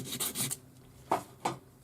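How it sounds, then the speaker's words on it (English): Strokes of 400 grade sandpaper on a sanding stick rub across metal, a rapid cluster of rasping passes followed by two separate, sharper strokes after a pause, close and fairly soft. "Sand 400 grade sandpaper on your sanding stick."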